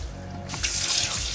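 Running water splashes loudly and close by as a bleach tie-dyed black hoodie is rinsed under a tap, a sudden gush starting partway through.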